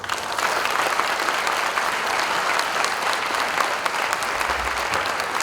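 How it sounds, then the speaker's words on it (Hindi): An audience at the launch event for the U-Genius 2.0 All India Quiz Competition claps continuously and loudly, a dense sustained applause with no pauses across the whole stretch. "जिस प्रकार से आप ताली बजा रहे हैं कि आप मेरे साथ हैं"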